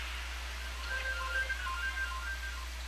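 A phone's text message notification plays as a short series of thin, bright electronic beeps, faint and steady against a low constant hum, with no voices.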